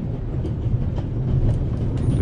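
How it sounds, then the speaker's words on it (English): Runaway train in the Alps from the game The Raven Remastered, a steady loud rumble of rolling wheels and carriage noise with faint rhythmic clatter, continuous throughout with no talking. "now you're here, on an out-of-control train in the Alps"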